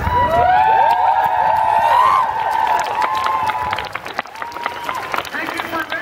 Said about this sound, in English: Thank you for cheering for us.